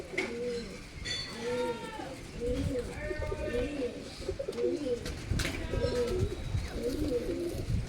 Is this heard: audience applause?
no